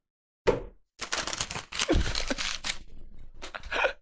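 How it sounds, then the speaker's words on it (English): A sheet of paper is slapped down, crumpled into a ball and tossed: a sharp thunk, then a dry crackling crunch followed by a few quick rustles, loud and close with no talking. "Love the sound of the slap, the crumple, and the toss."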